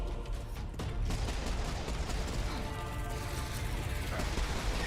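Rapid pistol gunshots fire in Serious Sam 4, a dense, continuous barrage mixed with game action noise and a voice talking underneath throughout.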